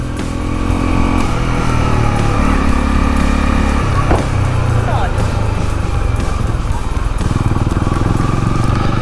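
Honda CL250 Scrambler motorcycle engine running steadily while riding at low throttle in second gear, a loud continuous rumble with shifting harmonic tones throughout and no talk.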